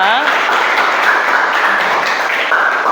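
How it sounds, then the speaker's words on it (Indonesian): Classroom applause for a presenting student group, a dense wash of clapping mixed with voices throughout the short stretch. "Beri tepuk tangan yang meriah untuk kelompok 2."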